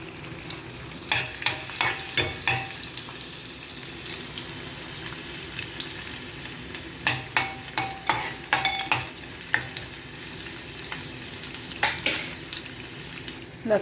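Garlic fries in hot oil for a banana flower sabzi, a steady low sizzle with intermittent scraping stir strokes and clinks that grow busier toward the end, close but fairly quiet.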